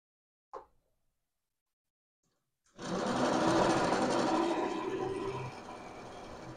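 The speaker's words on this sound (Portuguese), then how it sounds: "Agora eu vou fazer uma costura aqui com ponto menor." A domestic sewing machine stitching fabric with a short stitch setting, running in a steady continuous whir after a single brief click, near and fairly loud, easing slightly toward the end.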